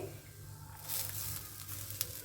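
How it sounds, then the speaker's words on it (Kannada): Grated coconut powder roasting in a pan for Karnataka-style rasam, a soft dry sizzle with light stirring scrapes and a single sharp tap near the end, close and fairly quiet. "ಒಂದು ನಾಲ್ಕು ಐದು ದೊಡ್ಡ ಚಮಚ ಆಗುವಷ್ಟು ತೆಂಗಿನ ಪುಡಿನ ಹಾಕಿಬಿಟ್ಟು ಹುರ್ಕೋತಾ ಇದ್ದೀನಿ"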